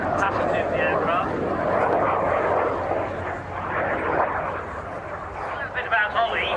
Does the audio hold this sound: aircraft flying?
yes